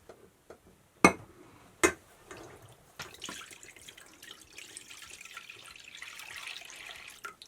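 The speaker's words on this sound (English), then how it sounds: "the first step is to get the half and half and the sugar into a" Half and half and sugar go into a saucepan for homemade ice cream: a couple of sharp clunks, then a soft, steady pouring rush of liquid that fades out, close and fairly quiet with no talking.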